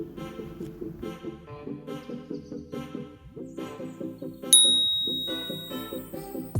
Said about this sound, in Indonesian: Duh, notif apa tuh?